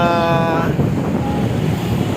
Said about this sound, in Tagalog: Medyo malakas lang talaga ang alon at medyo malamig yung dagat ngayon